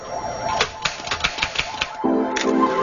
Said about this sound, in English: That was a typewriter in which the type bars struck the platen from the front.